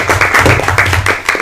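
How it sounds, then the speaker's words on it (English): Audience applause at a district education advisory council meeting, a dense steady wash of clapping hands from a room of attendees, loud and continuous with slight swells throughout. "Let's give Brian a round of applause."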